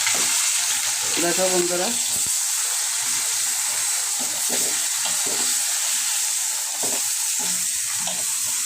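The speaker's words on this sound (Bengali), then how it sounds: "এখন মাছের মাথাগুলো দিয়ে দিচ্ছি" Fish heads frying in a little oil with vegetables in a pan, a loud, continuous close-up sizzle and hiss with occasional stirring scrapes, and a voice speaks briefly over it.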